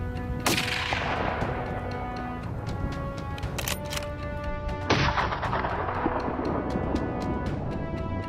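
Rifle shots are fired at wild hogs in brushy hill country, with two loud cracks whose echoes trail off, followed by a series of faint repeated snaps over a steady background rumble.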